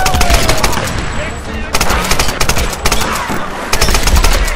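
Rapid bursts of AK-47 automatic gunfire in the video game Tomb Raider, set in a shantytown battle, with repeated loud volleys and brief gaps over a busy game soundscape.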